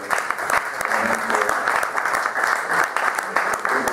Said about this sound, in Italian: Farei un applauso all'ingegner Tesoro.